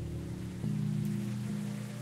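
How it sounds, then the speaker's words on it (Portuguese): Rain pours outside a hospital in the video game Sally Face, a soft steady patter under a sustained low musical drone that swells slightly partway through. "Está chovendo que só."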